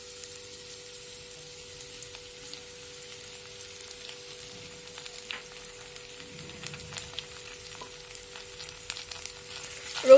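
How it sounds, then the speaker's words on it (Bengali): Crushed garlic frying in mustard oil and ghee in a wok, a faint, steady crackling sizzle with scattered pops and a steady hum beneath, ending in a brief louder knock. "কড়াতে সর্ষের তেলের সঙ্গে ঘি দিয়ে প্রথমে থেতো করে রাখা রসুনটা দেয়া হচ্ছে।"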